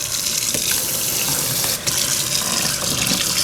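Water runs steadily from a newly installed farmhouse kitchen sink faucet, a constant splashing rush into the basin with a brief dip near the middle, close and fairly loud with no talking.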